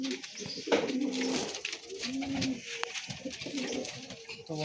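Young Madrasi highflyer pigeon chicks with closed tails give soft, close-up coos and murmurs in short repeated phrases, with light rustling and no talk.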